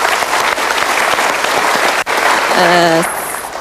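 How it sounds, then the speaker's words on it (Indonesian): A studio audience at an Indonesian talk show claps loudly and steadily, with a brief dip partway through and a short musical sting or tone near the end as the applause tapers. "kita berikan tepuk tangan dia"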